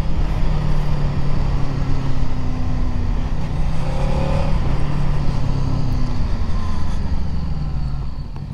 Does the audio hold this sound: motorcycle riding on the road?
yes